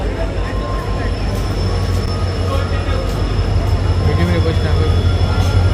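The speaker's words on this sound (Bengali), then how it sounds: "2 নম্বর স্টেশনে হচ্ছে মালগাড়ি ঢুকছে" A freight train rolls into platform 2 of a station during Durga Puja in Kalyani, with a heavy low rumble, rhythmic wheel clatter and faint metallic squeals, while people talk nearby.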